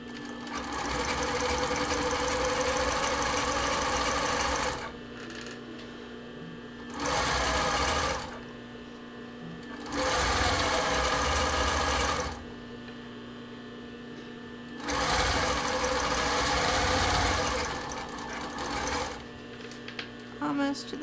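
A sewing machine stitches a stretchy sports bra seam in several loud runs of rapid needle chatter, broken by short quiet pauses, with a steady mechanical hum underneath.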